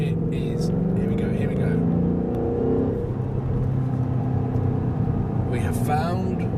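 A 2015 Ford Mustang V8 accelerates along an autobahn, its engine a steady, loud rumble that rises and drops as it shifts gears. People talk over it the whole way through.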